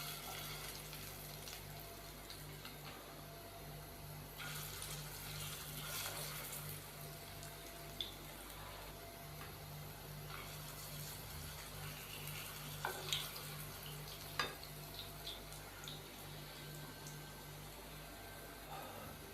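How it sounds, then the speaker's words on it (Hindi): Beef shami kebab cutlets fry in hot oil in a pan, a faint, steady crackling sizzle with a few sharp pops scattered through, close and without talk. "अब एक एक करके कटलेट्स जो हैं वो फ्राई होने के लिए हम पैन में डाल देंगे"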